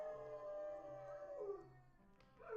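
Nearby dog gives a sustained, steady howl that breaks and slides downward, then a fresh rising howl starts at the end; no voices.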